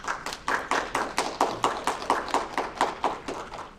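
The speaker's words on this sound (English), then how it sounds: "If we give them a round of applause," Slow rhythmic clapping from a small audience at a campus forum, about four claps a second, evenly paced and moderately close.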